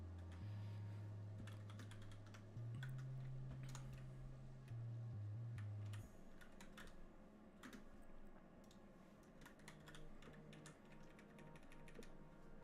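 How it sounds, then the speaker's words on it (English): Typing on a computer keyboard during Unity game development: a quick, irregular run of soft key clicks at close range, accompanied by a low steady hum through the first half. "God, I'm really good at typing today."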